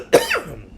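A single sharp, close cough bursts out, followed by a short raspy tail as it fades.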